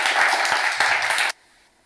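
A crowd at a poetry gathering bursts into brief loud clapping that cuts off abruptly after about a second, leaving near silence.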